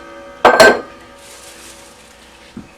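A metal biscuit pan clanks as it is slid onto the middle rack of an oven preheated to 425 degrees, two sharp close metallic hits followed by a faint hiss and a small knock.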